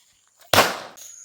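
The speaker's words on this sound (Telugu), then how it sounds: "మా అన్న బాంబులు కాలుస్తాం చూడండి." A single Diwali firecracker goes off with one loud, sharp, close bang that trails into a brief crackling decay.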